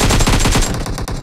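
Rapid automatic gunfire from the video game PUBG, a dense burst of loud close shots rattling in quick succession for about a second before easing off, with no voices over it.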